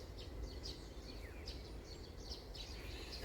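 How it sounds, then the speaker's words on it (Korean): Small birds chirp and twitter faintly in a forest, with scattered short calls repeating over a low, steady background rumble and no voices. "숲속에서 새들의 소리가 아주 멋있게 들려옵니다."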